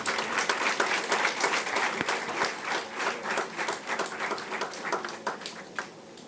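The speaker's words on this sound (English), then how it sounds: "A big round of applause, please." A large audience applauds at a business school MBA convocation ceremony, with sustained, dense clapping that swells and slowly tapers off over several seconds, with no voices on top.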